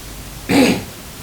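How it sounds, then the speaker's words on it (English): A single short cough, close and fairly loud, bursts out of steady background noise in the pause between a football commentator's lines. "excuse my little cough I've got"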